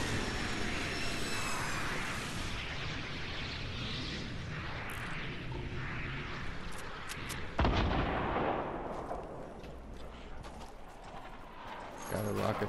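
Rocket blasts and gunfire from a Fortnite squad match, a dense, continuous barrage of booms and shots with one sharper hit near the middle, mixed under voices talking.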